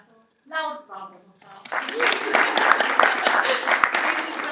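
After a short spoken phrase, an audience at a Latin American film festival breaks into full, sustained applause that continues steadily to the end.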